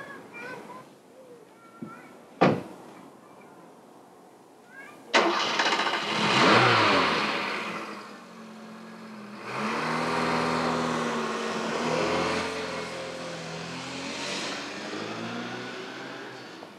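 A car in Stockholm in 1985 cranks and starts after a couple of sharp clunks, then revs and drives away with a rising, shifting engine note. Voices occur in the scene.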